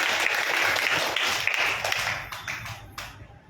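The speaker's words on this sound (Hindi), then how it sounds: "बजाओ ताली यीशु के नाम।" A worship congregation claps in praise during a church service, dense applause at first that gradually loosens into scattered, fading claps.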